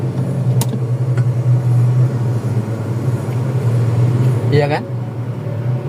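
A 1997 Toyota Kijang LGX engine runs with a steady low rumble as it pulls away in second gear, close by and constant, while someone speaks briefly over it.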